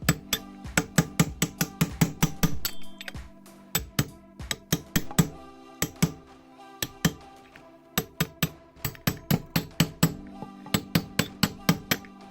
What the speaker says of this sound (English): Just put it like this and just hammer on the other side.